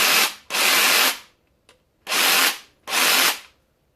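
Toolpro 18V cordless cutting tool, its motor revving in four short bursts that spin up and wind down, with brief pauses between them and a small click in one gap, close and alone.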